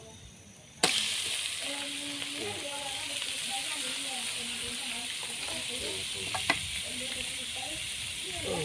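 Pieces of eel hit hot, fragrant Thai curry paste in a pan and fry with a loud, steady sizzle, broken by a few clanks of the stirring spatula, with faint talk in the background.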